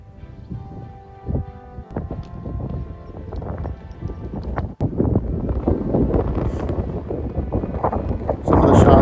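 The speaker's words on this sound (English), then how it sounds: "the wind was blowing pretty hard that day" Strong wind gusting across an exposed Irish links golf course, a steady low buffeting roar that rises and thickens toward the end, with a sharp knock partway through and no talk.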